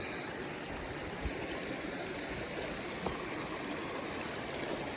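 A small mountain stream on a Sierra Nevada trail rushes and splashes in a steady, close, continuous wash of water, with no voices over it.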